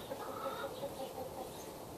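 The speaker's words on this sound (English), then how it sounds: "and this is my chicken Pook." A backyard chicken clucks softly in short repeated calls close by, with steady coop ambience and no talking.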